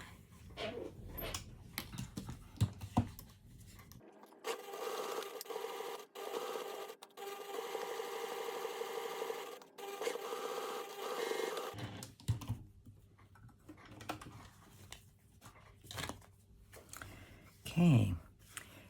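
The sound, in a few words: sewing machine sewing around curved edge of cotton wallet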